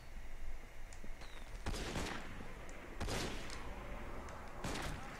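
Firecrackers go off in a video game in three loud clusters of sharp crackling pops, spread over a steady background rumble.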